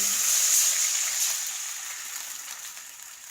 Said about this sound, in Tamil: இதில் கரைத்து வைத்துள்ள புளி தண்ணியை ஊற்றவும்